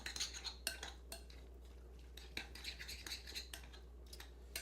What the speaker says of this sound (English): And then you just kind of mix it all up.